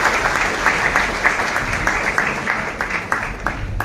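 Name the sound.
audience applause for the Minister of Agriculture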